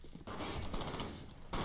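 Dense, rapid burst-fire gunfire in the video game F.E.A.R., loud and continuous, with a brief pause before another burst starts.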